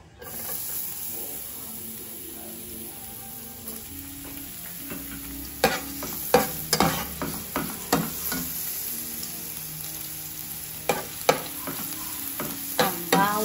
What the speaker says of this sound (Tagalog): Lagyan natin ng mantika. Tapos, lagyan natin ng bawang.